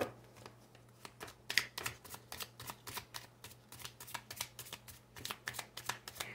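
A new tarot deck, an erotic fantasy set, is riffled and shuffled with quick, irregular papery slaps and flutters, close and fairly quiet, continuing steadily with no talking.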